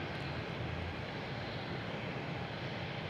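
An airliner taxis out toward the runway for departure at Boston Logan International Airport, a steady, broad distant jet-engine roar with no distinct events.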